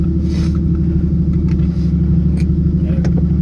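Mazda RX7 FD running a swapped 1JZ-GTE engine through an unfinished exhaust, a loud, close, steady low drone with a throbbing idle-like pulse and faint ticks over it, no talking.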